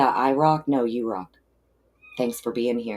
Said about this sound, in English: You may hear a cat meowing in the background.